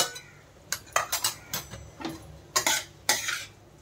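A spoon stirs kurma rice with a pinch of turmeric in a metal pot, giving a quick run of sharp clinks and scrapes against the rim and base, close and fairly crisp.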